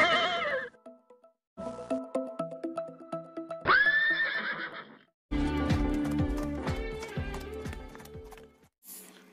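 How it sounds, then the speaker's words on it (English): A horse neighing in several loud, shrill whinnies, with rhythmic hoof clip-clops and other animal bleats in between, up close and clear. "H for horse."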